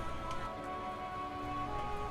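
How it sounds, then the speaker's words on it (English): Heavy rain pours steadily onto the deck of an offshore oil rig in the video game Still Wakes the Deep, a dense, continuous hiss and patter with no voices over it. "The rain is really coming down"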